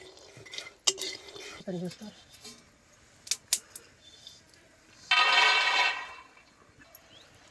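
Roasted peanuts are scraped out of a hot pan with metal utensil clinks and scrapes, a brief rattling pour midway, and soft spoken talk in between.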